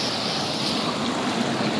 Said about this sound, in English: This is an absolutely massive waterfall.